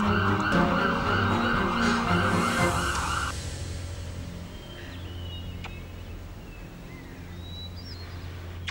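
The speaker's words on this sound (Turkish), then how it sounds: "Ambulans geliyor." A loud wailing ambulance siren sounds close by along with engine noise. It cuts off after a few seconds and leaves fainter traffic rumble and scattered sounds.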